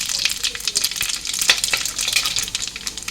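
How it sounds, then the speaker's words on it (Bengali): Bay leaf, dried chillies and whole spices crackle in hot oil in a wok, a lively, close sizzle with scattered popping spits throughout. "এই কড়াইয়ে তেজপাতা, শুকনো লঙ্কা দিয়ে দিলাম, রাঁধুনি সস, কালো জিরা দিয়ে দিলাম"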